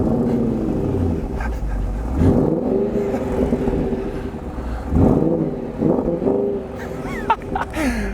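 A Mercedes R63 AMG minivan's exhaust rumbles and revs up in loud, repeated swells, close by, with a steady engine drone underneath and a few brief higher whirs near the end.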